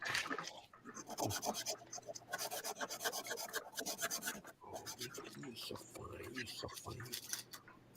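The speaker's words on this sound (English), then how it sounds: "I wish I had better sandpaper." Wood being rubbed with sandpaper by hand, a continuous close rasping scrape in rhythmic strokes, with low voices murmuring underneath at times.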